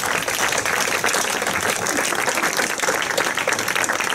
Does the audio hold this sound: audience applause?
yes